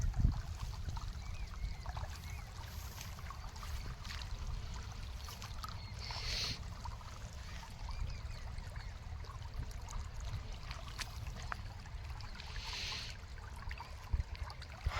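Steady flowing irrigation water running through a farm field in Bihar, a continuous gentle rush and trickle that holds even and unbroken throughout, with no voices.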